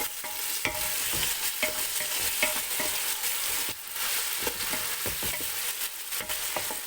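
Half-cooked rice is stirred into a pot of ginger-garlic paste, tomatoes and onion for chicken pulao, making a loud continuous sizzle broken by repeated scraping strokes of a spoon against the pot.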